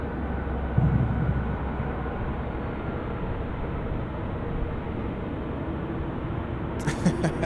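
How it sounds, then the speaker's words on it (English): Aircraft taxiing at Sydney Airport, a steady, distant broadband rumble of jet engines that holds evenly throughout with no talk over it, ending with a brief crackle of wind or handling noise. "So they are making an expeditious taxi down to well,"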